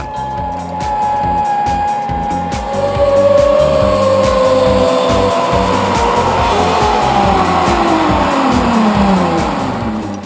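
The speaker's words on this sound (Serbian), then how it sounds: "a zvuk koji se čuje tokom spuštanja podsjeća na motor Formula 1" A zipline trolley speeding down a long steel cable over a valley at Bovec makes a loud, sustained whining roar whose pitch slides and shifts like a racing engine across the whole ride.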